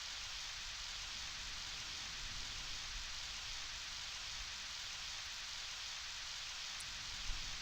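Constant rain in the video game PowerWash Simulator pours evenly throughout, a broad unbroken hiss with occasional faint drips standing out.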